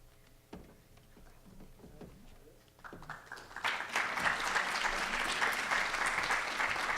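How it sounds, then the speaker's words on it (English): Audience applause at a College of Pharmacy class of 2019 pinning and award ceremony, starting with a few scattered claps and swelling after about three seconds into full, steady clapping from a large crowd. "Let's have another round of applause for the class of 2019."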